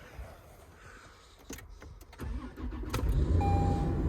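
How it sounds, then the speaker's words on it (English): A Toyota 4Runner engine cranks and turns over in extreme cold at about -14 degrees, building from quiet clicks into a steady, loud running rumble with a faint tonal whine near the end. "let's see if the car has any trouble starting"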